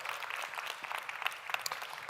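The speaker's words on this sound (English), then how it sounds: "Another round of applause would be in order." Soft, distant applause from an audience at a climate resilience knowledge event, steady clapping throughout with a few sharper claps standing out.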